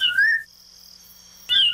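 Bright whistled bird-song phrases of a sabiá, a Brazilian thrush, coming from a child's toy radio, two short bursts of rising and falling warbling with a steady thin tone and near silence between them.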